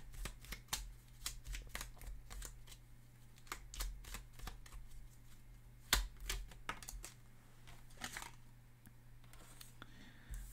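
Tarot cards riffle and snap as the deck is shuffled and a card is drawn, giving quick bursts of crisp slaps and flicks, close and fairly quiet, with a faint steady hum behind them.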